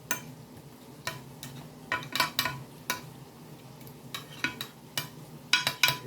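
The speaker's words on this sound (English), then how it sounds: "We're going to put this in the bottom of the pan, just a little to coat it." Enchilada sauce spooned into the bottom of a Pyrex baking dish makes a series of light clinks and taps of a spoon against glass. The taps come in irregular bursts and stand alone at close range.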